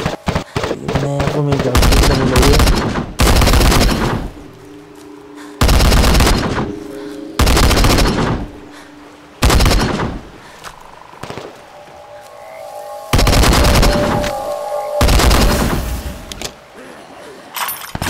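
Bursts of automatic gunfire in the zombie shooter Into the Dead 2, loud rapid volleys separated by short pauses, repeating several times close up with no talk over them.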